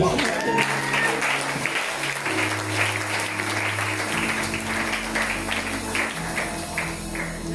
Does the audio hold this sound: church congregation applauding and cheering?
yes